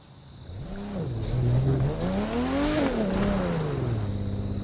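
A Porsche 911 GT (993) in The Crew 2 street race revs and accelerates loudly and close, its engine pitch climbing and dropping through gear changes with a steady roar throughout and no talking.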